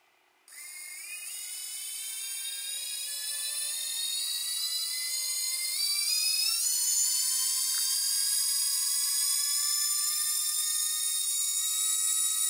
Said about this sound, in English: demonstrate you the sound of all the motors spinning up from the lowest value